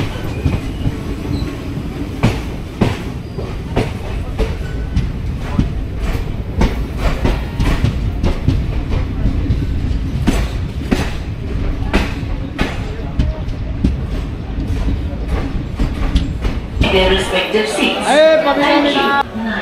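A passing express train rolls by on rails close up, steady clatter and rumble with rhythmic wheel clicks over joints, loud throughout; the tone shifts near the end as the last cars pass and brighter squealing takes over.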